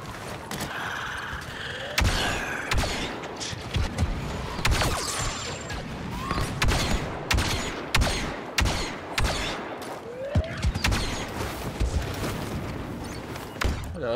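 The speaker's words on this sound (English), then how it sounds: "Ah, rapid fire." Rapid blaster fire rattles through a Star Wars Battlefront firefight, with dense bursts of sharp shots and louder impacts repeating over busy battle noise for the whole stretch.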